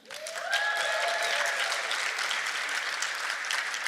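Audience at the Women in Agile 2022 conference breaks into applause, a dense steady clapping that swells within the first half second and holds at a strong, even level, with faint whistle-like tones near the start.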